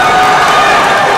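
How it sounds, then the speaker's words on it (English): A boys' high school basketball crowd roars loudly for a diving save, a dense, intense burst of cheering voices packed close and filling the gym. "I don't know if I've ever heard a crowd go that loud just for a diving save"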